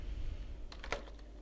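A short burst of typing on a computer keyboard: a handful of quick, light key clicks clustered in under a second over a low background hum, with no talking.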